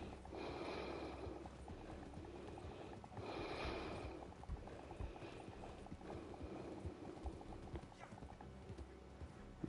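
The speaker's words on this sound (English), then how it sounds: "It's just the horse, man." Horse hooves clip-clopping in a steady walking rhythm at mid distance, the beat carrying throughout, with a couple of snorts and breathy sounds mixed in and no speech.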